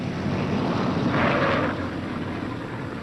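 A B-17 bomber makes a rough landing, its engines a steady, loud drone under a broad rushing roar that swells briefly near the middle before settling back, with no voices.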